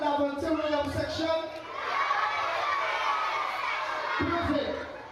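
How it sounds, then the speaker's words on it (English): A crowd cheering and shouting at a lively event for a rhythm section, a sustained roar of voices and whoops with some chatter, fairly distant and steady throughout. "make some noise and make a round of applause for Lavantil Rhythm section"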